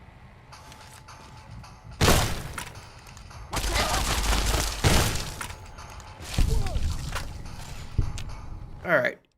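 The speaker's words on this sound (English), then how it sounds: "We're going to go at this with a shotgun." A shotgun fires in a video game during a fight against Powder Gangers: three or four loud, close blasts spaced a couple of seconds apart, with someone talking between the shots.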